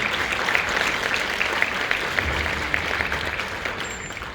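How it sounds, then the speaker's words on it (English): Applause from the audience at a county board of supervisors meeting, a thick, even roar of many people clapping that holds steady and eases slightly at the close. "I just think that deserves a big round of applause."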